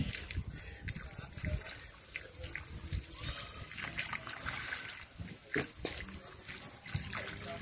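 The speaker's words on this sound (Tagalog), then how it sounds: "Ayan na yung baha" Rising sea floodwater splashing and trickling against the shore near houses, a steady wash with scattered sloshes under a bright constant hiss, with a voice speaking at times.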